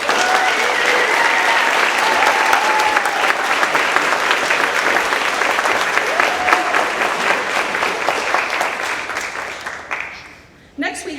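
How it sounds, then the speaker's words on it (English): A company celebration crowd applauds an employee, sustained clapping from many hands filling the room for about ten seconds before tapering off and fading out. "Let's give Jennifer a round of applause."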